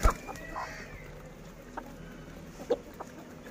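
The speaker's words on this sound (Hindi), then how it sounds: "और ये सारी मुर्गियाँ इसी मुर्गे के साथ हैं।" Aseel chickens clucking softly at a distance, with a few scattered short clucks over quiet outdoor background noise.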